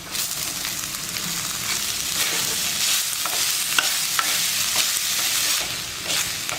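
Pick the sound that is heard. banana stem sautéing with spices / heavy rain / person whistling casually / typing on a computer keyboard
banana stem sautéing with spices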